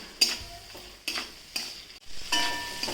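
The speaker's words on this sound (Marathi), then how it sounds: "हिरवी मिरची चांगली परतून घ्यायची" Green chilies sautéing in a pan, a soft sizzle broken by a few distinct stirring scrapes about every half second, close and fairly quiet with no voices.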